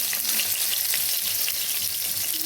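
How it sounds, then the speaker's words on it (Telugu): Onions frying in hot oil in a pan for a ridge gourd dal tempering, giving a steady close crackling sizzle throughout with no talking. "ఇదిగండి ఆయిల్ వేడెక్కింది. ఉల్లిపాయలు,"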